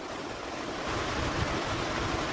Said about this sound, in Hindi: बारिश स्टार्ट हो गया है